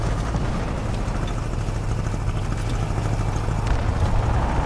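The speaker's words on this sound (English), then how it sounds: "I think there might be another plane incoming" A propeller aircraft engine drones steadily at close range in the War Thunder combat game as another plane comes in, a continuous loud rumble that swells slightly toward the end, with no talk.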